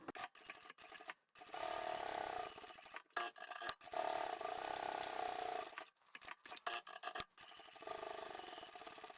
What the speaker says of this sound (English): we'll sew those in place